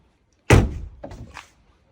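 A single solid thunk as the passenger door of a BMW E46 shuts, followed by a brief softer rattle as it settles.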